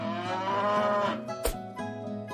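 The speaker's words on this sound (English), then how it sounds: "It's the sound of a cow." A toy sound maker plays a cow's moo, a long, loud, tonal lowing that dominates the clip, followed by a brief click and a shorter second moo, with no talking.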